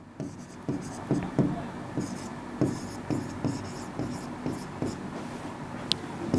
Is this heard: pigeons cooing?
no